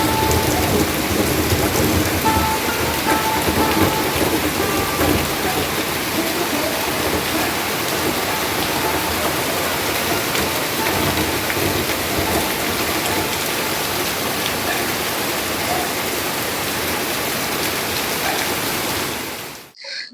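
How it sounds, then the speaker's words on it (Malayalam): Heavy rain pours down in a thunderstorm, a loud unbroken roar with deep rumbles of thunder underneath, cutting off abruptly at the end. "തെളിഞ്ഞു നിന്ന ആകാശം എല്ലാം ഇരുണ്ടുകൂടി ദേ ഇത്രയും ശക്തിക്ക് മഴ പെയ്യാൻ തുടങ്ങി"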